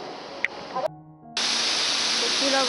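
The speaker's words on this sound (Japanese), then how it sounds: "こちらが一番見事な滝なんですけど" The main falls at Akame 48 Waterfalls roar as a steady, full rush of white water, cutting in abruptly after a brief quieter moment with faint sounds and then holding loud and constant to the end.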